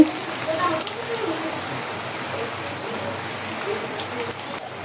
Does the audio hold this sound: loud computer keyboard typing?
no